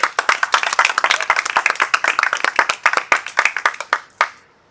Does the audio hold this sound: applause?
yes